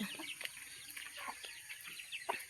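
Chickens clucking softly at a village home, faint scattered clucks over a hissy, noisy background.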